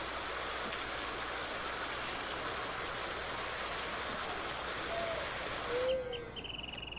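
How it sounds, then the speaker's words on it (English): Water flows into a cow watering trough in the Farming Simulator 19 game, a steady broadband rush like a stream that ends abruptly near the end, leaving a quiet hum and a few faint chirps. "As you can see, the water is flowing."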